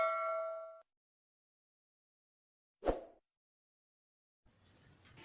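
A single bell-icon notification chime rings once, a short clear tone that quickly fades into silence, followed by a separate metallic clink and faint noise.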